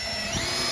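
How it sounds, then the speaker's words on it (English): A brief, steady whir of a power drill running at constant speed, close and fairly loud. "I'm going to drill a pilot hole"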